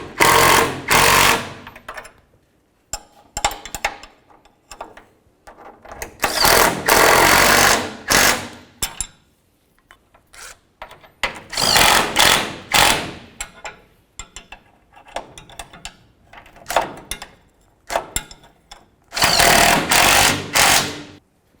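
Repeated bursts of an impact wrench or ratcheting tool snug bolts on a transmission mount of a 2001-2006 Chevrolet Silverado 2500, loud and close, with short rattling runs separated by pauses.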